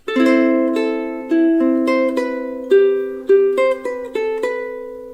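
Two bars of a melody ring out on ukulele, about a dozen clean plucked notes in a steady, lilting rhythm, close and unaccompanied, with some notes sustaining over the next.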